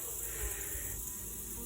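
Honey bees buzz inside a nuc hive started from an abandoned hive split, a steady dense drone that holds evenly throughout with no pauses and no voices.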